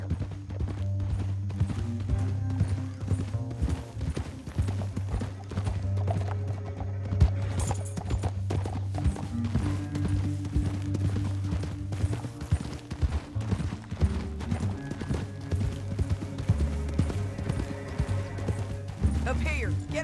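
Horses gallop with steady clip-clop hoofbeats in a Red Dead Redemption 2 canyon chase, with occasional whinnies, set under a dense, continuous backdrop of music and game sound.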